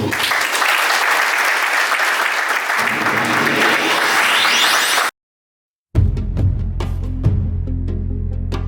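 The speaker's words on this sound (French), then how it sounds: "Veuillez applaudir, s'il vous plaît." Applause fills the room at a civil wedding ceremony, dense and steady for about five seconds, then cuts out to silence before quieter scattered clapping and a low hum resume.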